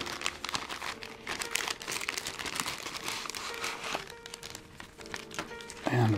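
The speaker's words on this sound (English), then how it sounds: "open up the Ziploc." Plastic Ziploc bag of model kit parts being handled and opened, a steady close crinkling and rustling of thin plastic lasting several seconds, with a soft thump near the end and no speech.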